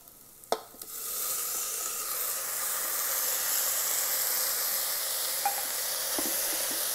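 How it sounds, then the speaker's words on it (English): Chopped tomato fries with onion in an Instant Pot, opening with a sharp clatter and then settling into a steady, close sizzling hiss that carries on with a few faint clinks. "Tomato is fried with onion for 4-5 minutes."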